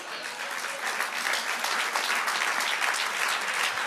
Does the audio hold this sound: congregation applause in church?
yes